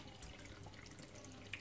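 A faint trickle of water runs through the pipe of a homemade aquarium phosphate reactor, a quiet continuous flow with occasional small splashes and drips.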